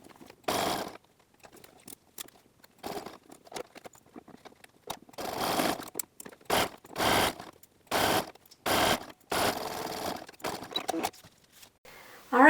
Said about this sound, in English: as you sew the part that you curved and stretched the elastic, you're going to need to stretch as you sew